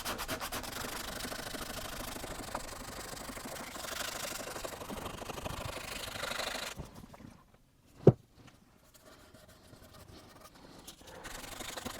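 Sanding on a wooden guitar neck being shaped for a neck-through build, a steady close scratchy rubbing for about seven seconds, then a quieter stretch with one sharp knock and faint rubbing resuming.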